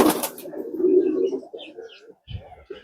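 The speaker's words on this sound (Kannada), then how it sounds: "ಪಾರಿವಾಳ ಡೌಸ್. ಬಬ್ಬ ಏನ್ ವೆರೈಟಿ ಆಫ್ ಡವ್." Pigeons or doves cooing nearby, a soft low rolling coo followed by a few lighter, fainter calls in an otherwise quiet outdoor setting.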